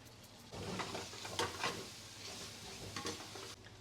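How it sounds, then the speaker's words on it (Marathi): Ground coconut paste frying in oil with onion, garlic, chilli and tomato for crab masala, a low hiss of sizzling under a few soft stirring scrapes in the pan. "खोबऱ्याचं वाटण आधी तेलात तळून घ्यायचं"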